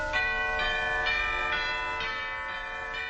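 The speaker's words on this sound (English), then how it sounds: "Scandalized listeners protest the raw sexuality of the bells." Rhythmic peals of church-style bells ring out in a steady sequence of overlapping strikes, each bright tone blooming and ringing on as the next one lands, playing a tune on a radio broadcast.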